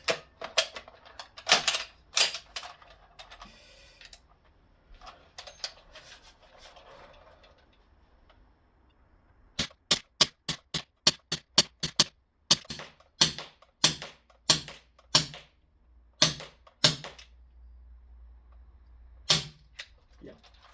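Sharp cracks from a CO2 airgun, a 4.5mm Huntsman Arms LK58 FN FAL replica, sparse at first, then a rapid string of shots that thin out and grow weaker as the gas runs out, with faint rustling between.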